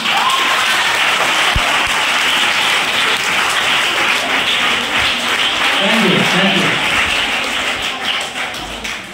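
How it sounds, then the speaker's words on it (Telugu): An audience claps at a child abuse awareness program on the POCSO Act: sustained, loud applause from a crowd that holds steady for several seconds, then tapers off near the end. "ఎక్కువసేపు చప్పట్లు కొట్టారు"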